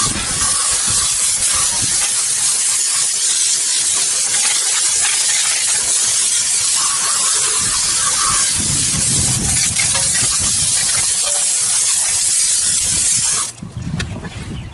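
A garden hose sprays water onto a wheel to rinse off degreaser and wheel cleaner, a steady loud hissing spray running continuously near the source before cutting off at the end.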